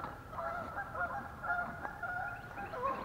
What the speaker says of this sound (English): Boy, the geese are just going crazy.